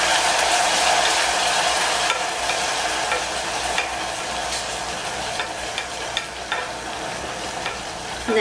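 Butternut squash mixture with maple syrup bubbling at a boil in a pan, giving a steady crackling sizzle with scattered pops and light stirring clicks, fairly close and without talk.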